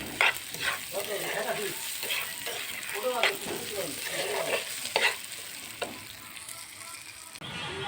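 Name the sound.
cooking, frying and stirring food in a pan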